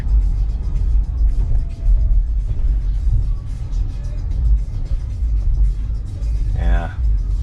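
A Tesla Model 3 Performance driving through downtown Chicago at night: steady low road rumble and tire noise with a continuous city hum and a short mechanical whine near the end. Voices talk over it.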